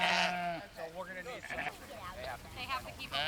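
Sheep kept in a vineyard to fertilize it bleat several times nearby in wavering cries, while someone narrates over them.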